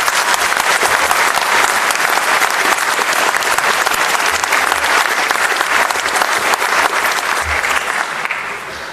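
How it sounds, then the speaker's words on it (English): Sustained, loud audience applause fills an award ceremony hall, dense steady clapping from a large crowd that tapers slightly at the end. "I think he deserves another round of applause."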